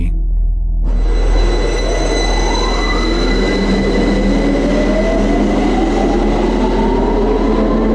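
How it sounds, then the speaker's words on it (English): A train arrives in the horror game Lost in Vivo, beginning with a sudden loud rumble that swells into rolling wheels and long rising metallic squeals, close and dominant for the full stretch. "we called this train back and this is the train that killed her originally"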